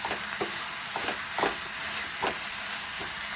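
Broad beans being stirred in a frying pan, giving a steady low sizzle with a few soft scraping strokes of the spoon spaced about once a second, close and fairly quiet with no talking.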